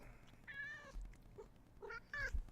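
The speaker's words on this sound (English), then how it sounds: "My kitty did backup vocals." A house cat gives several separate meows in a quiet room, each a short, clear, nasal cry spaced apart over a couple of seconds, fairly faint and close.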